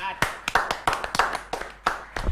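Sparse, distinct hand claps for former NBA player Merle Scott, about eight sharp claps in an uneven rhythm, close and fairly loud, as if from only a few people.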